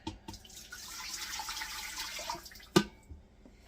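Chicken broth pours in a steady splashing stream into a pot for a couple of seconds, ending with a sharp knock of a container nearby.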